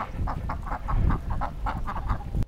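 A run of about nine evenly spaced nasal quacks, close and fairly loud, as a duck-quack sound effect in a comedy show, with no talking over it.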